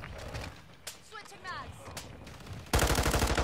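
Rapid automatic gunfire from Call of Duty Modern Warfare 2, starting loud and sustained near the end after a stretch of quieter game sounds and a brief voice.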